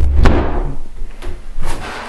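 A door shuts with a heavy thud at the start, loud and close, followed by softer knocks and rattles as it settles in the frame.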